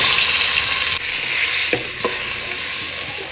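Cucumber, eggplant, carrot, tomato and green chilli pieces frying in oil for sambar, a loud continuous hiss with a couple of stirring knocks, close up.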